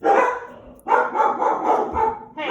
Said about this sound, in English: barking at the neighborhood dogs.